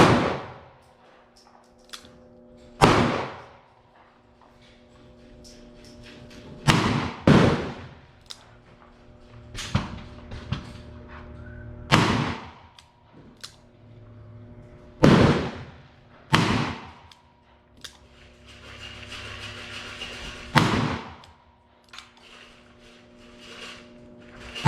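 Revolver shots ring out at an outdoor range, firing cast bullets: about eight sharp, loud reports spaced a few seconds apart, each with a short echo, and no talking between them.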